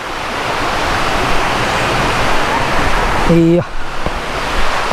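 Marachuvadu waterfall in Idukki sends out a constant loud broadband rush of falling water that fills the whole span, with a short tonal beep-like sound near the end over the roar.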